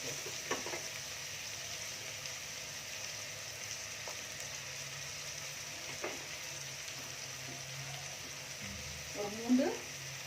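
Onions sautéing in a pan until brown for chicken 65 biryani, a steady soft sizzle running throughout with a few stirring clatters and scrapes, loudest near the end; a voice speaks briefly over it.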